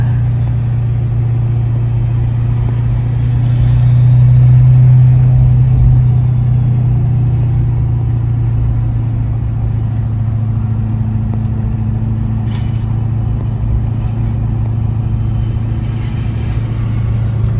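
A 2018 Ford F350 truck with compound turbos and a light load in the bed cruises along, its engine a loud steady low drone with a brief swell in rumble early on, heard from inside the cab.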